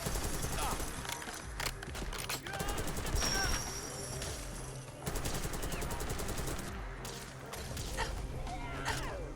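Sustained automatic fire from the Krig-C rifle, a Black Ops 6 weapon modded into Fallout 4, crackling in dense bursts throughout amid game music and effects, with a brief lull midway.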